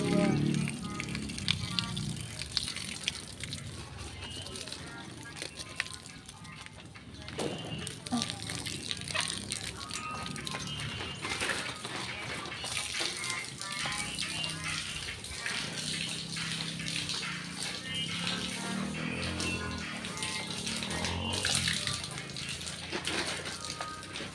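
Water sprays steadily onto freshly replanted dill in a garden, a continuous close hiss and splash running the whole time while someone talks over it.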